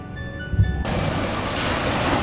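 Ocean waves wash in at Muara Beting beach, Desa Pantai Bahagia, Muara Gembong, Bekasi; a wide, steady surf hiss starts suddenly and continues with wind-like noise, and nobody talks.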